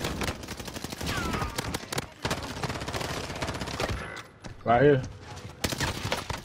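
Gunfire in Call of Duty: Warzone on Rebirth Island, dense bursts of shots running under players talking, with a short lull before more firing.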